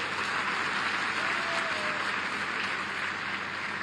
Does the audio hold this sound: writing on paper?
no